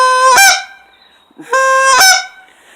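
Two loud, close honks from a goose call blown by mouth, each a rising, reedy note with a sharp break at the end, separated by a brief pause.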